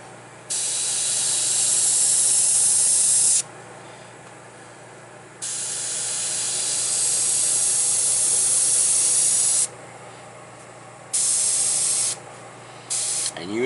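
A Timbertech airbrush sprays in several bursts, each a close, loud, airy hiss that starts and cuts off abruptly. Two long sustained sprays come first, then a few shorter bursts, with pauses between them.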